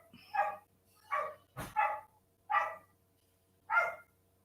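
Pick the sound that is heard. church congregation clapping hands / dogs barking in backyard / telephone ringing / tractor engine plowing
dogs barking in backyard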